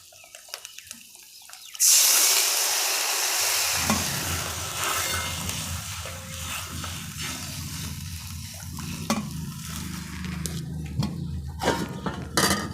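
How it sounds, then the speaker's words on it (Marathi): Water pours into a hot pan of oil tempering for a drumstick vegetable curry, starting with a sudden loud hiss and rush that settles into a steady bubbling sizzle, with a few utensil clinks later. "आता याच्यात टाकते पाणी"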